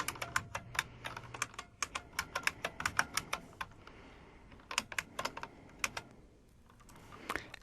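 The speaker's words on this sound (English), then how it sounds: "now we'll go ahead and type in the word transect" Quick bursts of typing on a computer keyboard while configuring IRGA software, crisp close key clicks in uneven runs with short pauses between, and nobody speaking.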